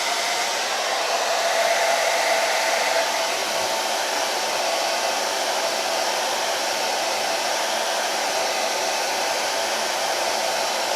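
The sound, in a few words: hair dryer on hot setting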